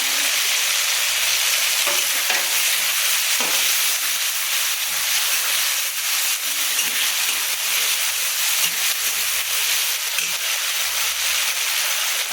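Dried red chillies hit hot oil in a pan alongside grated boiled potato and set off a loud, steady sizzle and crackle. The frying hiss keeps going without a break, with a few soft stirring knocks and no voices over it.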